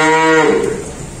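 A Simmental cow gives a single loud, close moo that starts tonal and fades into a breathy tail, with no talking over it.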